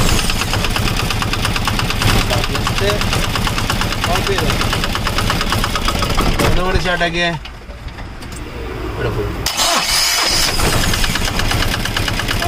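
An Eicher MultiX Polaris diesel engine runs loudly and roughly, cuts out briefly, then cranks on the starter motor and fires back up close by, with someone speaking briefly.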